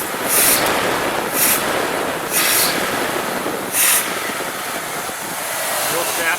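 A bone stock demolition derby car's engine idles slightly high with a steady, even broadband rumble, broken by a few brief hissing bursts at regular intervals.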